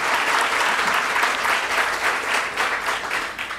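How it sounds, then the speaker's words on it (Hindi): Loud, dense audience applause welcoming guests at a college student event, a sustained roar of clapping hands with no talking. "जोरदार तालियां बजा करके हम उनका स्वागत करेंगे"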